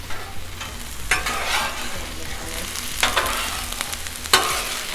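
Beef stir fry with zucchini and onion sizzling on a Blackstone griddle, a steady frying hiss with several louder bursts of scraping and stirring, close and without talk.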